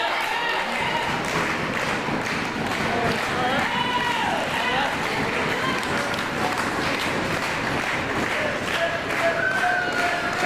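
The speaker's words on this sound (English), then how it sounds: "a crowd here in attendance, loudly in support of the game changer Christian Blake here at Fright Night" A wrestling crowd at the Fright Night show cheers and claps in support of one wrestler, a steady roar with scattered shouts and a few thuds, while a commentator talks over it throughout.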